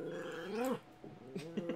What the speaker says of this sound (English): She is barking now.